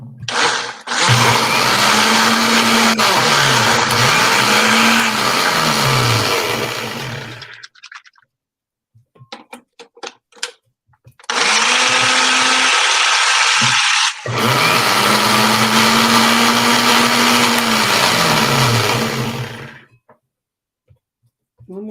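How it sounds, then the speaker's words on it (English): A blender runs loud and steady for several seconds, stops briefly amid a few soft knocks, then whirs again in two more long bursts. "It's crawling up the walls of my blender"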